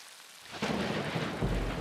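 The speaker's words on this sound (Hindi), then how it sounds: "ये एक तूफानी दिन था।" Storm sound effects in a Hindi BeBeBears cartoon, a sudden loud thunder crack rolling into steady heavy rain, with a second rumble near the end, with no talking.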